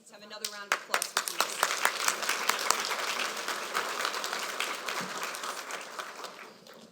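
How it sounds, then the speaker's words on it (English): Loud applause from a business forum audience at an awards event, with dense clapping starting in sharp individual claps and swelling into a steady, full round that holds to the end. "Let's have another round of applause for"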